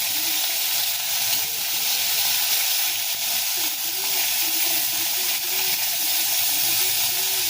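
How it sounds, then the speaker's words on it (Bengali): Pieces of lotte (Bombay duck) fish frying in a pan of hot oil, giving a loud, steady, close hiss and sizzle that runs unbroken as the pieces are turned one after another. "দেখুন ওই পিঠটা ভাজা হয়ে গেছে এবার আমরা আস্তে আস্তে একের পর এক মাছগুলোকে উল্টে দেবো"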